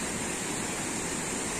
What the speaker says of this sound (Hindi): झरना है पानी का बहता हुआ, आप लोग देख सकते हैं